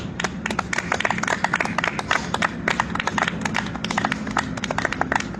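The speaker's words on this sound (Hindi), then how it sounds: "Big clap for Devesh." An audience at a yoga session claps for a participant, a dense, steady burst of many hands applauding close by for several seconds, with no talk over it.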